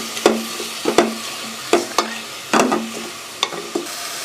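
Beef being stirred with oil in a pan for a bhuna, a series of about eight sharp spoon scrapes and clanks at uneven intervals over a soft background sizzle, close and clear with no talk.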